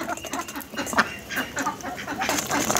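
Ducks quacking in a busy flock while being fed by hand in hot weather, overlapping calls and rustling close by with no clear talk.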